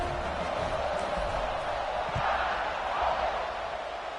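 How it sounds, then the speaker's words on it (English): A large stadium crowd in an American football video game buzzes with a continuous, dense roar after a touchdown, steady and loud throughout with no distinct voices standing out. "this crowd is buzzing after that last score"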